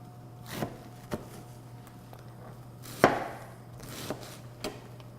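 A knife cuts cabbage thinly on a board, making a few sparse, soft chopping taps at irregular intervals with one sharper cut partway through. The taps are quiet and close over a low background hum.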